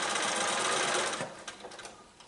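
A domestic sewing machine runs steadily, stitching a quarter-inch seam of quilt binding with a fast whirring buzz, then slows and sputters toward a stop.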